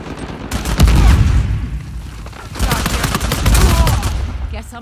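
In Uncharted 4: A Thief's End, loud, dense bursts of rapid gunfire come in two clusters with a brief lull between them, each crackling volley close and heavy.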